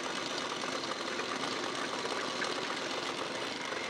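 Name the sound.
sewing machine stitching a blouse eye strip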